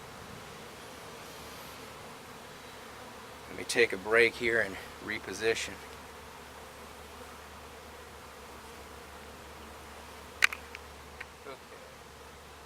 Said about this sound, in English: We've got the bees in there.